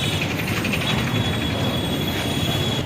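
A train rumbles steadily nearby at Vasai railway station, with a continuous low mechanical roar and faint high metallic squeal, no voices.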